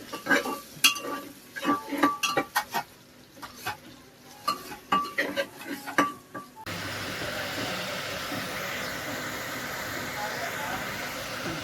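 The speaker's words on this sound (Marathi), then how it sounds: "चिकन टाकून घेतला आपण डायरेक्ट फ्राय" Chicken being stir-fried in a pan gives close, irregular scraping and clattering of a utensil against metal, followed by a steady, even frying hiss for the last several seconds.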